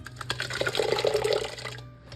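Minced tomatoes being poured onto fried vegetables for a borscht base, a short wet gurgling pour up close that stops abruptly near the end.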